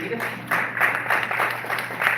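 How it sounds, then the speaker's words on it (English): Applause rises from a film festival audience for World Chocolate Day, a steady wash of clapping at moderate volume that swells slightly partway through. "Carlos, a round of applause for the work that he's doing."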